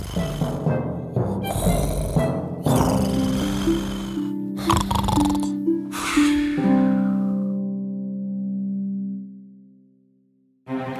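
A voice imitates loud snoring, several drawn-out snorts and rumbling breaths in a row, ending on a long sustained snore.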